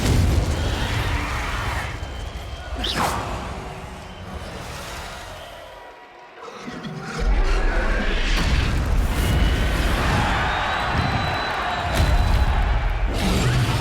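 Fire and blast spells in the Hogwarts Legacy video game, fought while rescuing dragons from poachers, throw dense rumbling booms and crackling bursts that fill most of the stretch, loud and close, easing briefly midway before surging again.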